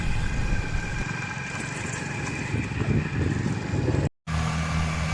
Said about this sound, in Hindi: आ गया भाई खेत में, चल रहा अपना ट्रैक्टर भाई।